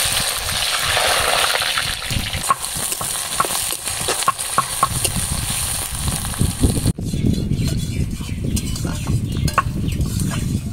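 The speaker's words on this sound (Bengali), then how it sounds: "তেল গরম হয়ে গেছে, পেঁয়াজ কুচি দিয়ে দেবো।" Chopped onions dropped into hot oil, a busy frying hiss with scraping stir clatter that shifts abruptly partway through and carries on steadily.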